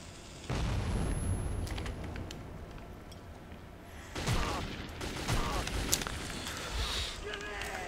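A grenade goes off in the video game Metro 2033, with a loud burst near the start followed by a second heavy blast and rumbling debris partway through, under a voice.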